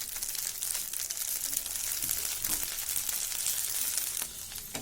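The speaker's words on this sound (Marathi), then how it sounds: "यावर थोडंसं तेल टाकायचं, आजूबाजूने पण थोडं तेल सोडायचं" Oil sizzles steadily around a Khandeshi jowar dhirde pancake cooking on a pan, a dense, even hiss that holds close and loud throughout with faint scattered crackles and no talking.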